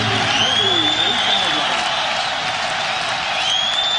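A college football stadium crowd roars steadily for a Houston versus Tulane game on a tense fourth down, a loud sustained wash of cheering and whooping with a whistle-like tone rising above it.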